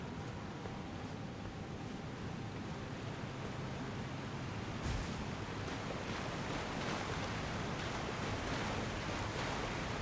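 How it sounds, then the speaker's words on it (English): A waterfall in the Elden Ring video game, near the Divine Tower of Liurnia, gives off a steady, quiet rushing hiss of falling water mixed with wind-like noise. No one speaks. "A curious little ledge above a waterfall."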